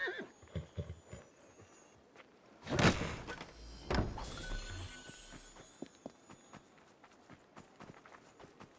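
Horse in the video game Assassin's Creed Syndicate, with hoof clatter and footsteps across several seconds, a loud burst of movement near the middle, then lighter steps trailing off.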